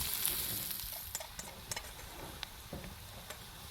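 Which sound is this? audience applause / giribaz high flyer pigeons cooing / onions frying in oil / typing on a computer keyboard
onions frying in oil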